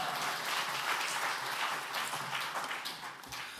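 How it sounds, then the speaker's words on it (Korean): A church congregation at a men's fellowship prayer meeting applauds steadily and fairly quietly for a few seconds, a dense, even patter of hands with no voices over it. "박수로 맞이하시겠습니다"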